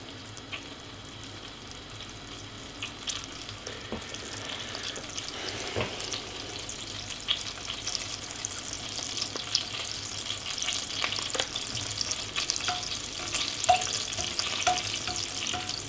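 Butter melting and sizzling in a pan, a steady soft frying hiss with a few faint scrapes, growing slightly louder over time, heard alone without talk.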